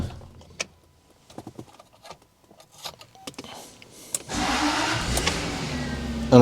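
A Jaguar car at rest, first quiet clicks and a faint electric whir, then the engine cranks and catches into a loud steady idle for the last couple of seconds, close by.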